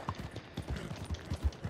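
Horse hooves in Red Dead Redemption 2 Online during a horse race, rapid rhythmic thuds of a galloping gait, faint and continuous with no talk.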